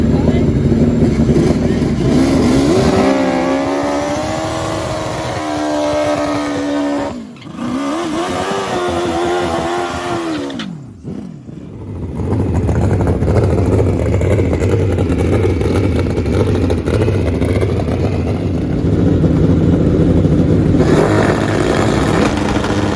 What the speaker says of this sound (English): Two amazing turbocharged Suzuki Hayabusas.